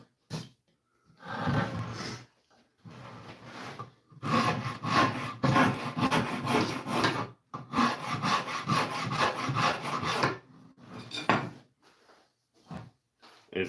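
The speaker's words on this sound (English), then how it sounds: "And then I'll go over it with sandpaper." Hand-sanding a wooden Telecaster guitar body with sandpaper, long steady rasping strokes up close in several bursts separated by short pauses, with no talking.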